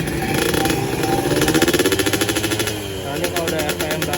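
A motorcycle fitted with an FJP aftermarket exhaust revs high, its engine note breaking into a rapid, rattling burble of pulses that rises and falls, loud and close.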